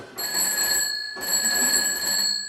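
An old party-line telephone bell rings in two brisk, metallic bursts, close and fairly loud.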